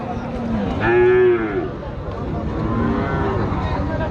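A single loud, close cow moo lasting about half a second, rising over a noisy market backdrop of voices and engine rumble.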